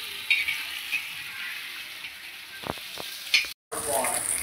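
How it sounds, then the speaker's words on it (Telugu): Fish frying in a pan for a Telangana-style fish curry, a soft steady sizzle with occasional stirring clatters and a brief dropout near the end, no talking. "చూడండి, ఇవైతే ఫ్రై చేస్తున్నా"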